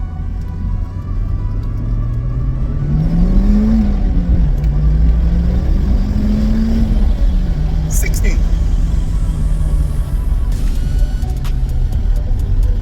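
A 1996 Toyota Celica GT4 engine revs and climbs steadily in pitch, dips briefly as it shifts, then keeps accelerating with a constant loud road rumble.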